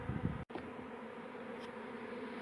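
Bees fan and buzz around a relocated barrel beehive in a steady, close hum of many insects, broken by one brief sharp interruption near the start.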